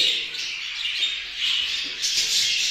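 Pet birds chirp steadily in an indoor aviary, a dense overlapping chorus of bright tweets with louder bursts near the middle and end, no voices.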